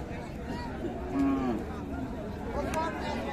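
Cattle low at a busy livestock market, the Raniganj haat in Ghoraghat, Dinajpur, where thin cows are bought and sold. One clear drawn-out moo stands out close by over steady crowd murmur, with fainter calls behind.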